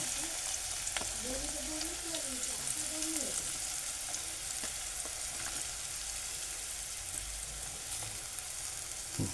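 Chopped onion and finely cut garlic fry in a pan with a steady, even sizzle and occasional stirring clicks, while a faint voice briefly murmurs in the background.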